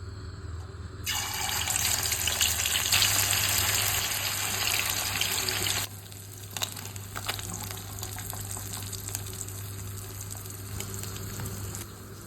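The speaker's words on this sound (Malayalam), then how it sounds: "നമുക്കതിലേക്ക് മീൻ ഇട്ട് കൊടുക്കാം" Steady loud hiss of fish frying in hot oil, a dense crackling wash that drops to a quieter sizzle partway through, with no voices.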